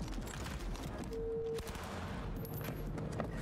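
Shotgun fire from the Cyberpunk 2077 video game, heard as a continuous dense run of gunfire and fusillade-like bursts over a busy game soundscape.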